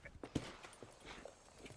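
Horse hooves in the video game Red Dead Redemption, with a soft, uneven clip-clop of a horse walking at a slow pace, quiet and close, with no talking over it.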